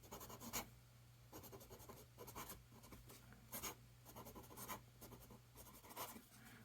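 A North Korean fountain pen's nib scratches across paper in faint, busy strokes, a steady dry rasp broken by brief sharper scrapes as the writing continues.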